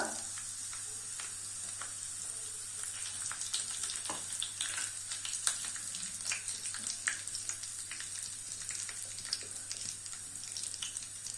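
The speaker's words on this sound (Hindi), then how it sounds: "तेल अच्छे से गर्म हो जाए उसके बाद हम डालेंगे जीरा, तेजपत्ता" Cumin seeds and bay leaves sizzle in hot mustard oil while mutton curry is being made, a steady close frying crackle with scattered pops and light stirring, and no voices.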